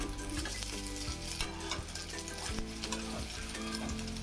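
Egg pieces and brinjal fry in hot oil with a dense, continuous crackling sizzle, close and steady, with a faint repeating low hum and occasional soft stirring taps and no voices.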